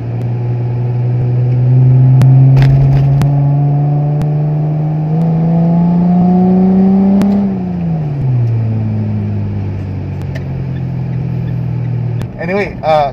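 Mitsubishi Pajero Sport with a 3.0-litre V6 petrol engine revs through its exhaust, a loud, close tone climbing steadily, then dropping back and settling, with a brief voice near the end.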